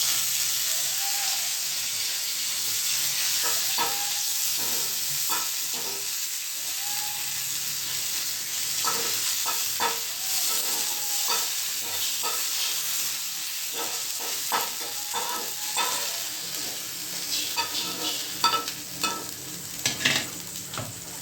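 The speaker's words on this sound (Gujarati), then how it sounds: "એટલે આમાં હું તેને થોડાક ફ્રાય કરી નાખીશ." Pointed gourd pieces fry in hot oil in a Gujarati home kitchen, giving a steady close sizzle and hiss with intermittent scraping and stirring clatter from a utensil, no talking.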